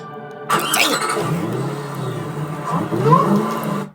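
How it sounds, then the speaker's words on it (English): A supercharged 5.4-liter V8 in a Ford GT on a race track roars up loudly and holds a strong, steady drone, with a rising whine as revs climb near the end before cutting off abruptly. "You hear that supercharger?"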